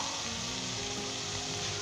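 Onions and keema fry in a pan with a dense, steady sizzle that stays loud and close, unbroken and with no voices.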